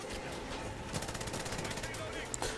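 Rapid machine-gun fire and shooting in the James Bond video game 007 Legends, dense bursts of automatic shots over continuous game noise, with a player's voice talking over it.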